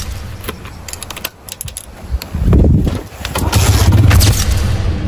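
A motorcycle engine starting, with a few clicks and short sputters giving way to a louder rough running rumble, close by and in short bursts.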